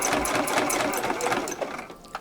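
A sewing machine runs continuously, stitching over the strap of a small tote bag sewn from fabric scraps, with steady close mechanical whirring that slows and stops near the end.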